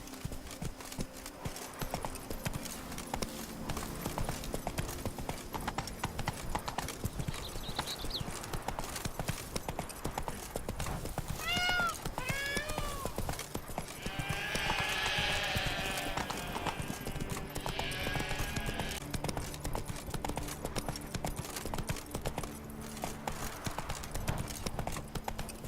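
A horse named Roach gallops with fast, steady clip-clopping hoofbeats that run the whole way through, and a brief whinny rises partway along.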